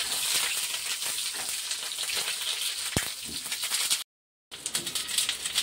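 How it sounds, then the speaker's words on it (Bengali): Green chillies frying in hot oil with five-spice in a pan for an eggplant dish, a steady close sizzle with a single sharp clink of the spoon and a brief dropout near the end. "4টে কাঁচা লঙ্কা দিয়ে ভালো করে নেড়ে নেব।"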